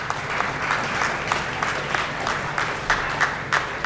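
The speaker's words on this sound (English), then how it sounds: "Please give them a round of applause." Audience applause at a school signing day, a steady crowd clapping in a hall with a few louder individual claps standing out near the end.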